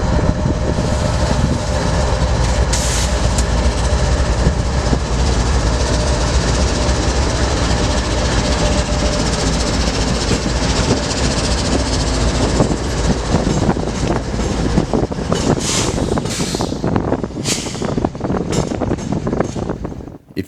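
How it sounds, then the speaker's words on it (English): A pair of GE Evolution Series locomotives turning around on the wye track in Galesburg, Illinois, giving a loud, continuous rumble with rail clatter and wind buffeting, nearby and steady. "Our first catch of the day is a couple GEVOs turning around on the Y."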